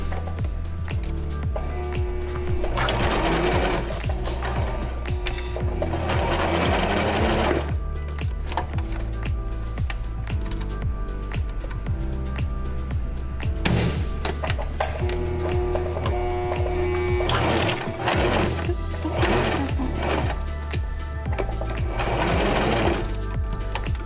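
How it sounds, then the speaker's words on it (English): A sewing machine stitches elastic into pajama pants in rapid mechanical bursts, stopping and starting several times as the seam is run back and forth, close and loud with no talk. "we're just going to sew over it until it's secure"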